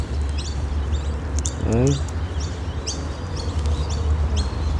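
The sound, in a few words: parrots calling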